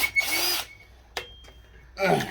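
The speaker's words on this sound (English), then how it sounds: "I wanted to use different size bolts to hold the bag up there, so I got to make the holes in the chute mount a little bigger" A power drill enlarges bolt holes in a parachute mount for a Valkyree CTS-V car, with two short whirring bursts separated by a quiet stretch with a sharp knock.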